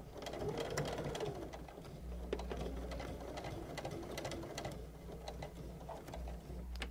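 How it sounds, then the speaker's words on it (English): A sewing machine stitches forward along a fabric bag strap with a fast, steady mechanical clatter, faint and close, with a few small clicks and no talking. "And now I'll sew forward."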